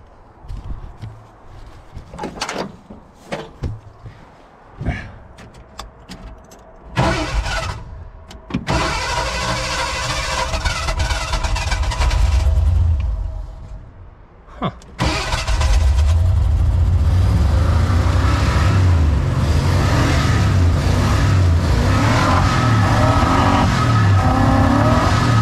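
A 1985 Ford Bronco being revived cranks with several short, uneven starter bursts. It then catches into a rough running engine and later revs up loud and sustained, close by.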